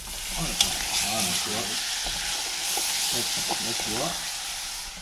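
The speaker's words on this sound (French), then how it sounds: "Tu remues bien le riz, tu le mets un petit peu à feu doux pour pas que ça accroche non plus." A risotto of rice with blue cheese sauce being stirred in a pan over low heat sizzles steadily, close up, under someone talking throughout.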